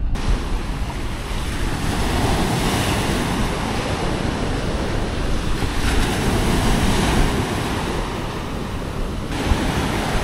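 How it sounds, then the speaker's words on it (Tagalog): Ocean surf rolls and breaks steadily onto Crystal Beach in Zambales, a continuous loud wash of waves with gusting wind buffeting the microphone throughout. "Guys, titingnan namin kung kamusta alon"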